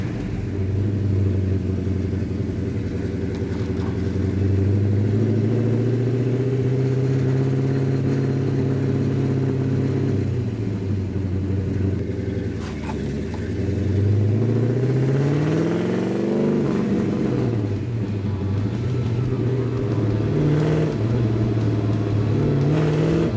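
A Hemi super car driving and revving, a loud close engine rising and falling through gear changes with a dip and surge in the middle, continuous for over twenty seconds without talk.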